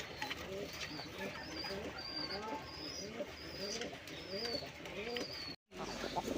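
Desi pigeons coo repeatedly in a steady, overlapping chorus close by, with faint chirps above and a brief dropout near the end; no one speaks.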